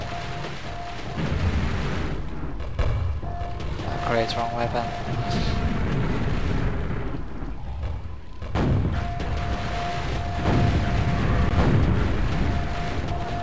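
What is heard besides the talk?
explosions in a video game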